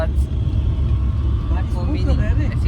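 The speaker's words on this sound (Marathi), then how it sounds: "गाडी पकडली आम्ही लोक इको पकडलेली आहे" Inside a moving Maruti Eco van, a constant low engine rumble and road drone fill the background, with voices chattering over it in the second half.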